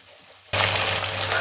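Schezwan chicken fried rice in a hot pan bursts into a loud, sudden hiss of sizzling after a brief quiet moment, then keeps crackling steadily.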